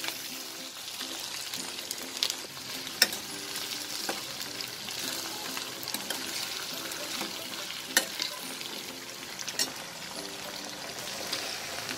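Vegetables and potatoes cook in a pan for restaurant-style veg biryani: steady close sizzling and frying with occasional stirring scrapes and clinks, no voices.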